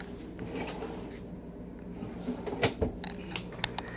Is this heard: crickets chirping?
no